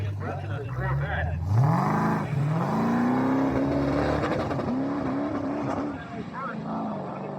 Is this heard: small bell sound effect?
no